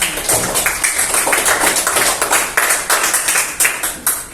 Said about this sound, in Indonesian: kasih tepuk tangan temannya